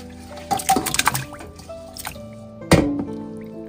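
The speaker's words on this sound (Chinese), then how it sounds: "猪骨冷水下锅焯水" Pork bones are dropped into a pot of cold water to blanch, giving splashing and dripping knocks, a cluster of wet clatters followed by a louder single plunk after a pause.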